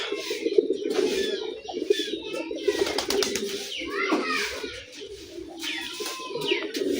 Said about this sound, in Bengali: এই যে আমার মোজালা নরের ডাক।